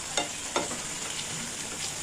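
A mixture of potato and chana dal cooks in a pan with a close, steady sizzling hiss. Two soft scraping stirs come early on, and no voices are heard.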